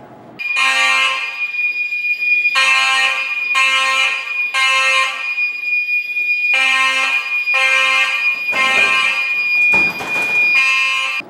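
Fire alarm blaring inside a building hallway, a loud piercing electronic tone sounding in repeated long pulses with short gaps, steady and harsh, with no talk over it.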